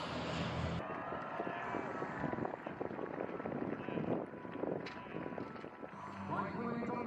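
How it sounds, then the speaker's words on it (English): A Blue Angels KC-130 propeller aircraft passes at an air show, a low, rumbling drone under nearby crowd noise and people talking. "That's the Blue Angels KC-130"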